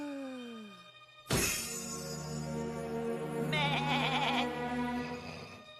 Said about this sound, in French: Georges, je suis la chèvre de Noël du temps présent.